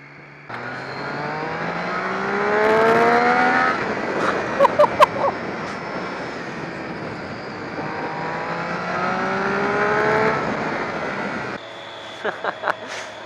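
A 2013 Triumph Street Triple R motorcycle on a test ride revs up through the gears twice, its engine pitch climbing in rising sweeps, with brief pops and blips between runs and wind rushing past.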